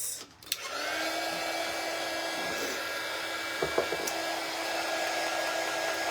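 A hair dryer blows continuously at close range on a pink craft tree, a steady airy whoosh with a brief click at the start and a few light knocks partway through.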